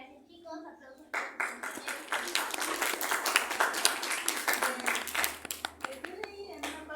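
Children in a classroom burst into applause, with many hands clapping together for several seconds at moderate distance, while voices and children's chatter mix in around it.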